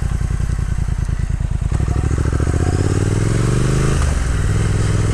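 A 2022 Triumph Speed Twin rides along country back roads, its twin-cylinder engine thrumming loud and close with rapid pulsing firing beats that shift into a smoother rising drone, with rushing wind over the whole ride.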